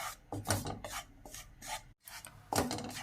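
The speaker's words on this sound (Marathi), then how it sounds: "थोडं कलर बदलेपर्यंत भाजून घेऊ कमी गॅसवर" Gram flour (besan) with turmeric and asafoetida is stirred and dry-roasted in a pan over low heat, giving quiet, uneven scraping strokes up close with a brief pause partway through and no talking.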